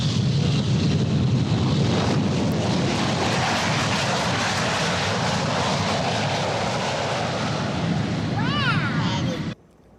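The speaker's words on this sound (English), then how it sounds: "we found a video of the day the Concorde landed at RDU back in 1986" The Concorde supersonic jet landing at RDU airport in 1986 gives a loud, sustained roar of jet engines, a dense broadband rumble lasting about nine seconds before cutting off abruptly.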